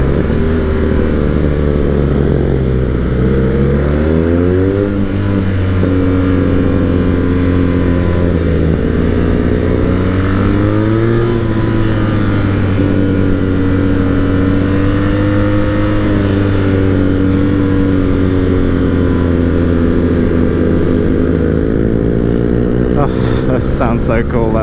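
A motorcycle engine revs loudly and continuously during a race overtake, pitch rising and falling through gear changes, with a voice talking over it.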